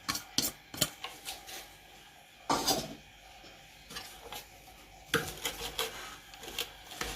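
Onions being chopped on a board for a cassava dish in a home kitchen, quiet irregular knife taps and thuds in short bursts with pauses between.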